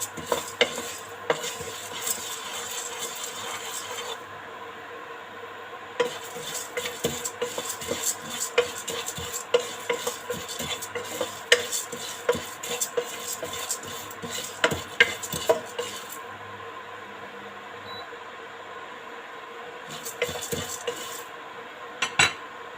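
Sunflower seeds fry in a shallow film of oil while a utensil stirs and scrapes them around the pan, producing a continuous sizzle punctuated by frequent sharp clinks and scrapes, with brief quieter pauses.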